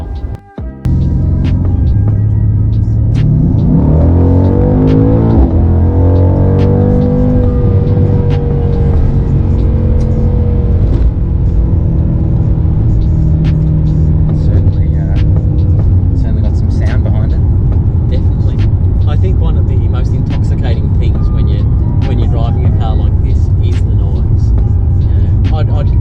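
A car with a nine-speed automatic held in third gear accelerates hard, its engine drone climbing steadily in pitch and then settling into a loud, sustained hum inside the cabin.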